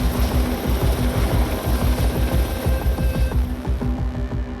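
An MH-60 Romeo naval helicopter drones loudly and close, its rotor beating in a fast, steady throbbing rhythm over a constant engine hum.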